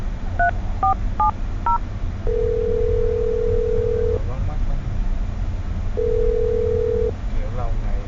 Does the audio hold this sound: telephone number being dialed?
yes